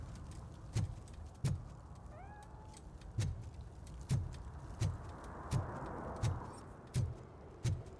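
A cat meows faintly once in the RoboCop Rogue City video game, a brief rising cry set against regular heavy footstep thuds and a low ambient hum.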